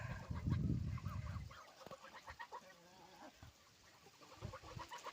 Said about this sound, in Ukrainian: Качечки тут.